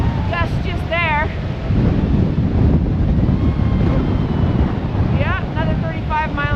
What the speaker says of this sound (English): I got a 35-mile-an-hour gust just there.